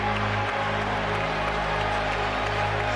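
Boxing arena crowd at a Manny Pacquiao vs Miguel Cotto fight, a dense, steady wash of cheering and applause with a low hum beneath it.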